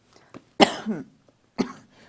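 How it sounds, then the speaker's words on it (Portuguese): A woman coughs in a few sharp bursts, one strong hacking cough followed by a shorter one, close and loud with brief quiet gaps between. "Pode deixar ela tossir"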